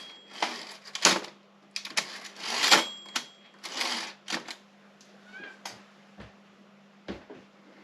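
An Optima Elite 2 typewriter being operated: a series of sharp mechanical clacks and carriage clunks in an irregular rhythm, close and crisp, with a faint steady hum beneath.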